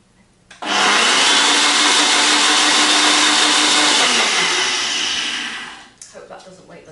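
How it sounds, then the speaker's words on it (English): A blender whirs loudly and steadily for about five seconds, mixing a chocolate orange shake made from diet food packs, then spins down and stops. "I'm going to stick it on the blender."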